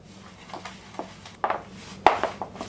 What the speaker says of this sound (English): Might need to use my spatula to get all this dry stuff mixed in